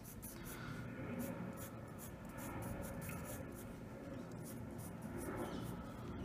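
Quiet scratching of a pencil drawing an old corner building with a round front on paper, soft and close, in short strokes and rubs.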